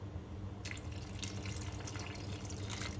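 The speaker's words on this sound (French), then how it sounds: "j'ai mis tout mon verre d'eau" A glass of water is poured into a pot of autumn soup with sweet potatoes before pressure cooking, giving a short, close, bubbling splash over a low steady hum.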